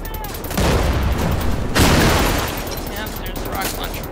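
Rocket launcher fire from an enemy at a fortified Nazi checkpoint in Wolfenstein: The New Order, a dense roaring blast and sustained rumbling barrage with crackling gunfire, loud and continuous throughout.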